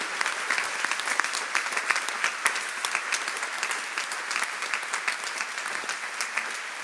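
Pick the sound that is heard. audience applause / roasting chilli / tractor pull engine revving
audience applause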